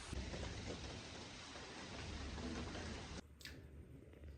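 Faint steady rain hisses continuously, then cuts off abruptly, leaving a few soft drips and quieter background.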